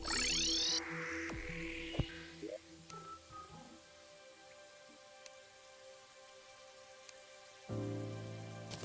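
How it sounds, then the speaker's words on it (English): Rain falls in Terraria with the Calamity mod, a soft, faint patter of drops beneath game tones and effects. A louder burst comes at the start and another near the end. "It's raining."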